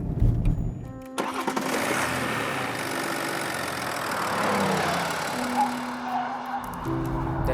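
A BMW X7 M50d's quad-turbo diesel engine runs, a steady mid-pitched drone with a brief start and rev change, heard fairly loud without talk over it.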